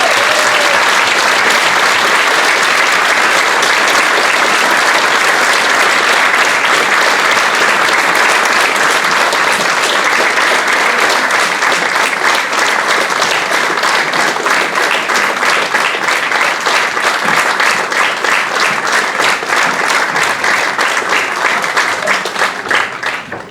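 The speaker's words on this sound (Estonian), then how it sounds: "usun, et nemadki on ära teinud suure aplausi" Sustained applause from a crowd at a Türi Ühisgümnaasium graduation ceremony, dense steady clapping filling the whole stretch before tapering slightly at the end.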